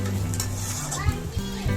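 Onion, carrot, chilli and tomato fry in a pan with a soft, constant sizzle broken by a few scraping stirs, while faint voices sound in the background.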